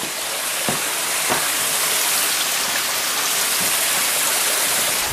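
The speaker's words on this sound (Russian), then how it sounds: "не слабый водопадик." Steady, dense rush of falling water, like a small waterfall close by, with a few faint knocks and no voices.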